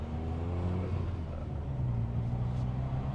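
A 400bhp Ford Fiesta ST2 running high boost drones and rumbles steadily, the engine note holding a low pitch and then rising slightly as the exhaust hums without a break.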